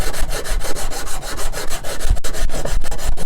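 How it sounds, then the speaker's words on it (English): Coarse 80-grit sandpaper rubbing back and forth over wooden guitar binding at close range, a steady dry rasping scrape with brief pauses between strokes. "This is just with some 80 grit"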